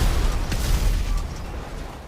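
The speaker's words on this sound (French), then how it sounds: "Ce serait peut-être une bonne idée, explosion atomique, non?" A huge atomic blast in the GTA 5 video game, heard as a loud, rolling low rumble that starts at full strength, carries a few sharp crackles, then slowly fades.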